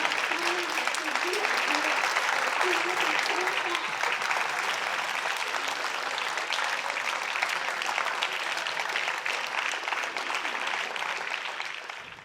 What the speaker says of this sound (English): Traders in Tokyo even broke out in applause.